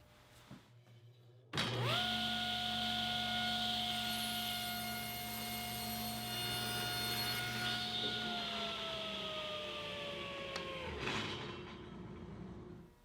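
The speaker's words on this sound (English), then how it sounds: "I'll start by ripping 3/4 inch MDF at 1 1/4 inches" A table saw ripping 3/4 inch MDF into a 1 1/4 inch strip: the motor whines up abruptly, holds a loud steady tonal hum with a rough cutting hiss, then winds down near the end.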